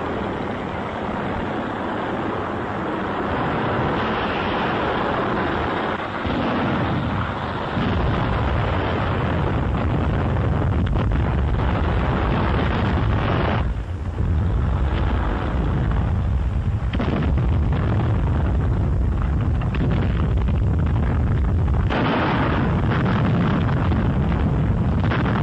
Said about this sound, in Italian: Mentre l'artiglieria e i mortai picchiano